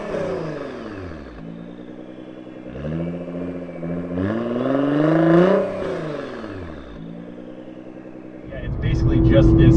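Nissan GT-R50 prototype engine revving under way, rising and falling in several strong pulls with a sharp climb near the end, heard from inside the car and loud throughout.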